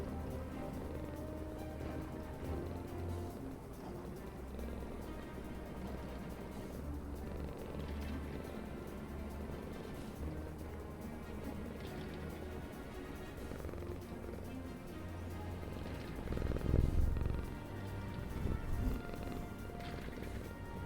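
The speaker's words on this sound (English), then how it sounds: "I don't know if you can hear her chat, but she's purring." Soft, low, rhythmic purring of a cat held close, faint and continuous under game music and ambient tones.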